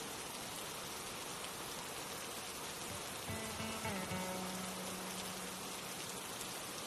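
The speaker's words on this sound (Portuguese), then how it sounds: "É uma chuva pesada, forte" Steady, dense rain pours down continuously, a close wash of drops hitting surfaces, with a brief faint tone partway through.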